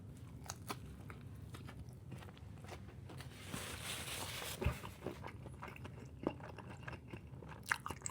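Someone bites and chews Domino's pizza topped with super burnt American cheese, making soft crunches and mouth sounds close by, with scattered sharper crackles and no talk.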